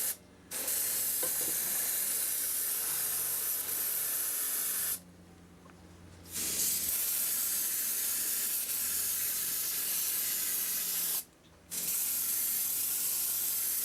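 Bursts of paint spraying from a Windy U Master 898 airbrush, a steady broad hiss that runs several seconds, cuts out briefly, then resumes, close and loud with no talking.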